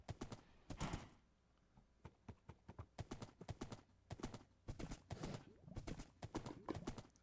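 Horse hooves clip-clop in a video game, a rapid series of sharp, close hoofbeats in uneven bursts with brief pauses between runs.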